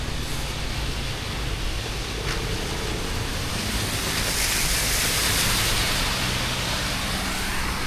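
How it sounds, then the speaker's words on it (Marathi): Heavy rain pours down steadily during Mumbai's first monsoon shower, a dense, constant broadband hiss that is loud and continuous throughout, with no voices. "घ्या पावसाला फायनली पाऊस, मुंबईचा पहिला पाऊस"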